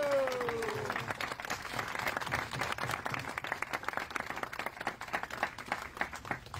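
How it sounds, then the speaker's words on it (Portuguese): Steady applause from a gathered audience at a devotional Vaishnava gathering, moderately distant and sustained throughout with a brief voice at the start. "todos batam palmas"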